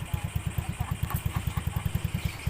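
A carbureted motorcycle engine starts and idles with a fast, even, throbbing putter, close and steady, with faint mechanical clatter on top.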